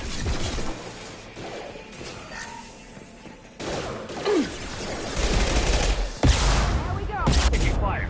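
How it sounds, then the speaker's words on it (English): Gunfire in the Mass Effect game: bursts of shots and impacts, with a heavier rumbling volley building toward the end, over a busy combat background and near, loud weapon blasts. "Taking fire."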